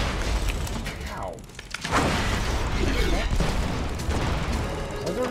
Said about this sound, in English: Why is everything exploding?